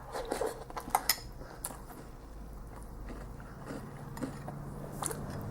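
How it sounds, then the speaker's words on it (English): Cereal being eaten with a spoon: light clinks of cutlery on a bowl and soft crunching bites, close and quiet, with no talking. "And eating cereal."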